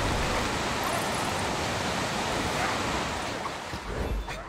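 Loud rushing water from the Lothlorien level of the Lego Lord of the Rings video game, a steady, dense wash of surf-like noise that holds level throughout and eases slightly near the end.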